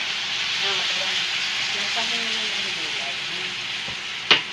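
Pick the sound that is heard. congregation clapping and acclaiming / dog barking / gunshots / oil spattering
oil spattering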